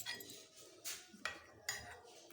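A spoon clinks against a bowl while mixing semolina into milk, three or four faint, sharp metallic taps spaced under a quiet background, with no talking.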